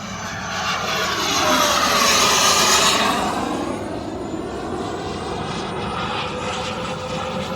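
A large RC model airplane flies past at high speed at a big RC event, its engine roaring louder as it nears, peaking, then fading with a falling pitch as it moves away.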